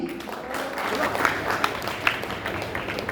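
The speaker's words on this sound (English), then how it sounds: "Let's keep applauding." Audience at a school U-14 boys cricket tournament closing ceremony applauds the most valuable player, a moderate continuous patter of clapping with a few sharper claps and crowd murmur beneath.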